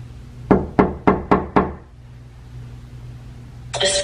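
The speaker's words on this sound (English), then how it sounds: "If I knock on this door, will you knock back?" Five firm knocks on a basement door, evenly spaced over about a second, close and loud, then a quiet room hum and a brief burst of rustling noise at the end.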